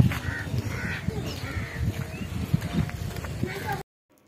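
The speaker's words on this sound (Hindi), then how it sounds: "अभी आपने चिड़ियों के चहचहाने की आवाज़ तो सुनी ही होगी।" Crows caw several times at a moderate distance over outdoor village background noise in Bihar, with some soft thumps, before the sound abruptly cuts to silence.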